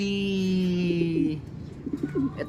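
Racing pigeons being fed and readied for basketing coo close by in a few drawn-out throaty calls, followed by shorter warbling coos.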